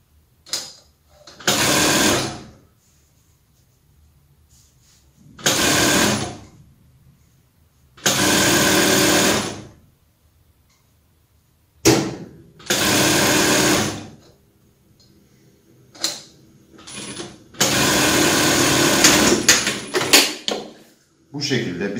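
Sewing machine stitching a dress seam with a 1 cm seam allowance, in several close bursts of rapid whirring separated by pauses, with someone talking between the runs.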